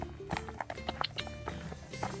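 A horse walks along a road on a hot day, with a close, steady clip-clop of hooves falling in a regular rhythm.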